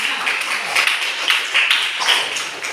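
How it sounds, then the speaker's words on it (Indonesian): Classroom audience applauding a student during a biology lesson, a continuous patter of many hands clapping at moderate loudness with a few sharper individual claps standing out. "Tepuk tangan dulu biar dia."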